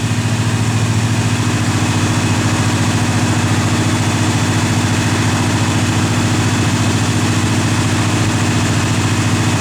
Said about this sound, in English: You can hear the choke works. Idles up and down.